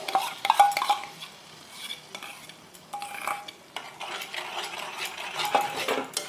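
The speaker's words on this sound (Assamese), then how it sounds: "কঁঠালখিনি অলপ লৰাই থাকিব লাগিব।" A utensil scrapes and stirs jackfruit being fried in a hot pan, with soft sizzling underneath and occasional clinks of metal.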